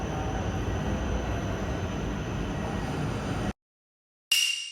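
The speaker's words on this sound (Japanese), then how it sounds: "この電車は、秋田新幹線、小町と東北新幹線、はやぶさ。" Akita Shinkansen Komachi and Tohoku Shinkansen Hayabusa high-speed trains rush past as a loud, steady roar of wheels and wind, which cuts off abruptly into silence before a brief burst of noise returns.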